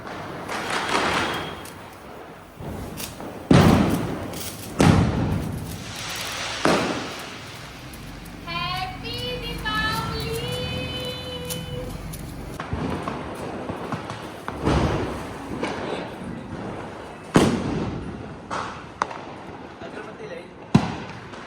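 Diwali firecrackers being set off outdoors, a series of sharp loud bangs spaced irregularly, with a whistling rocket rising midway and voices talking throughout.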